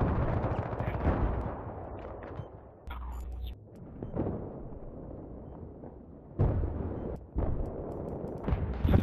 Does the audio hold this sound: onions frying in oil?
no